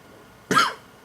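A single short burp from a man drinking Mill Street Belgian Wit beer, one abrupt throaty burst lasting a fraction of a second in an otherwise quiet room.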